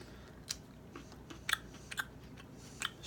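Crunchy home-grown seed sprouts are chewed close to the mic, with several sharp crisp bites spaced irregularly over a quiet background and no speech.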